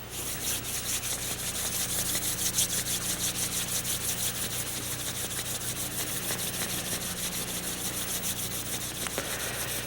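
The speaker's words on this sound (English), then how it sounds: "Now, rub your hands." Palms rubbing briskly together, a steady dry swishing friction that stays close and even for the whole stretch with no talking.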